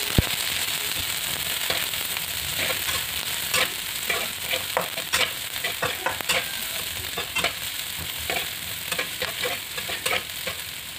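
Garlic and onion fry in hot oil with a steady sizzle, dense crackling pops and intermittent stirring scrapes, close and fairly loud throughout, no voices.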